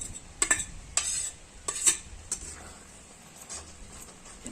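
Small fish frying in a wok with coriander, fenugreek and spinach, stirred with a spatula, giving several sharp metallic scrapes and clinks over a soft background sizzle, close and irregular.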